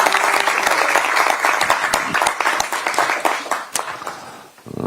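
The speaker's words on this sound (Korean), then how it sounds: "이보나님께 큰 박수를 부탁드리겠습니다" Audience applause at a Korean Democratic Party campaign committee event, dense hand clapping filling the room for several seconds before thinning out near the end.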